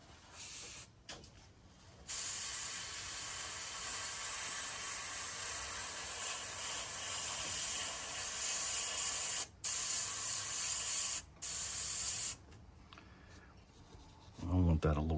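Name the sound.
airbrush spraying paint onto fishing lure through stencil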